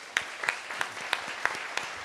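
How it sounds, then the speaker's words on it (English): Scattered, faint handclaps from a small audience at a city-planning conference, a few sharp separate claps spaced irregularly over about two seconds rather than a full ovation. "A big round of applause for Sam."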